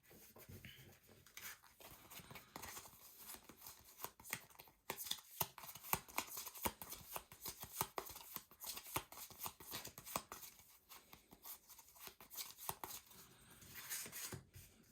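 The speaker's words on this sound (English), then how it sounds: "Then these all get shuffled." Arkham Horror location cards being shuffled on a tabletop, a long run of quick soft riffling and sliding taps, close and quiet, with no talking over it.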